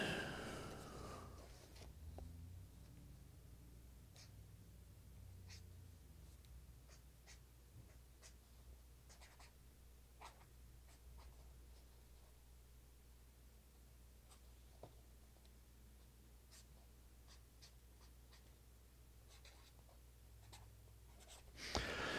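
Pen scratching across a sheet of paper in a quiet room, steady faint strokes with small taps and pauses running throughout, no voices over it.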